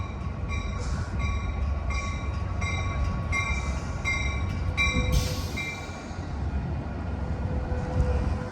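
An Amtrak Capital Corridor train pulls into Berkeley station with a steady rumble and rolling rail noise, while a bell or horn tone sounds in repeated regular pulses above it.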